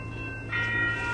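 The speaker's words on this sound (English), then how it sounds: "Oh, I can't stand these bells." Railroad crossing bells ring steadily at a Carlsbad Village crossing as an Amtrak train passes, the clanging tone growing louder partway through over the low rumble of the train.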